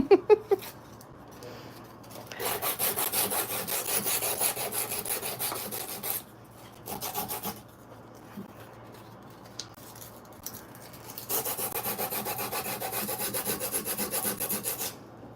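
Hand sanding: rough, rhythmic scraping strokes rasp back and forth in long bursts, broken by short pauses, close and fairly loud with no talking.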